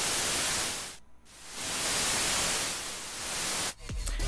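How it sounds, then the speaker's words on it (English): White noise oscillator of the Helm software synthesizer, a steady full-band hiss that drops out briefly near the one-second mark, then returns before a short break and a louder burst at the end. "the white noise sound source, which is the third sound source in Helm"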